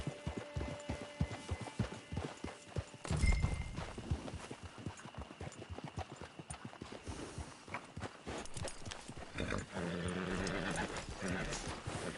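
Steady clip-clop of horse hooves walking in Red Dead Redemption 2, close and rhythmic, with a brief thump partway through and a faster trotting patter near the end.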